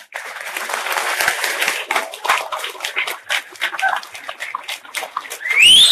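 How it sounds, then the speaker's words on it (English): An audience at a gathering in Paradise, Montana claps in scattered, uneven bursts that swell and thin, with a sharp rising squeal near the end. "I would like everybody to give them a round of applause."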